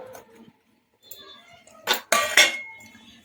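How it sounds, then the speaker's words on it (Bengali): Pasta tipped into a pan of flour-thickened sauce with broccoli, giving a few loud clattering, scraping bursts of utensil against metal pan after a quiet start. "এখন আমি পাস্তাটাকে দিয়ে দেবো"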